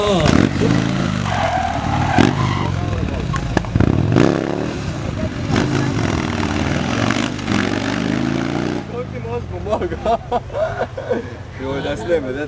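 A motorcycle revs and roars at close range during a stunt show at a drag race in Murska Sobota, with an announcer talking over the engine noise and the crowd.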